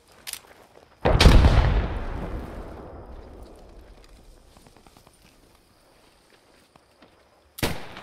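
A single loud gunshot in the WWII shooter Post Scriptum cracks close by and rolls into a long echoing tail that fades over several seconds, with faint sharp shots before it and another at the end.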